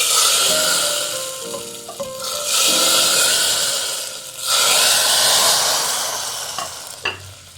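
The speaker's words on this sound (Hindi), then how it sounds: "ये देखिए बघार हम लगाने लगे हैं दाल के अंदर।" Loud hot-oil sizzling bursts out in waves, hissing and crackling as a garlic tempering is poured into a pot of chana and mash lentils, with a few clinks at the end.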